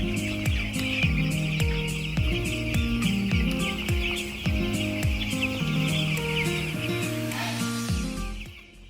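Broiler chickens on a farm cluck continuously in a dense, close chorus, with many overlapping calls forming a steady rhythmic murmur and no talking.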